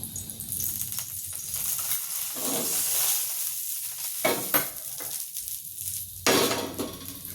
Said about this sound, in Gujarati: તવી તપી ગઈ છે, આપણે ઘી ઉમેરશું।